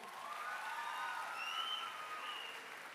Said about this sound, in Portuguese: Uma salva de palmas para esse povo aí.